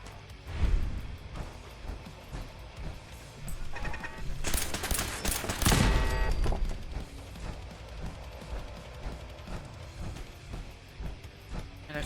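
Gunfire in Fallout 4, with sharp close shots scattered across the stretch and a dense burst of rapid fire and impact noise in the middle, alone without speech.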